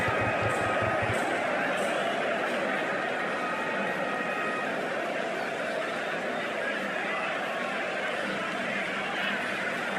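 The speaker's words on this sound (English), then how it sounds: "Oh, it's a loud crowd as the players make their way" A loud cricket stadium crowd roars steadily as the players walk out for a Delhi versus Rajasthan match, a dense, constant wash of cheering and chatter with no clear pauses.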